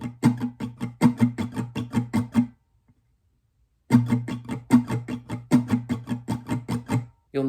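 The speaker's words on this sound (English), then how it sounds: "The first pattern is what you'll need for the choruses during the rapping part of the song" Acoustic guitar strummed in an even, driving pattern for a song's chorus, two bursts of steady strokes separated by a short pause, close and alone.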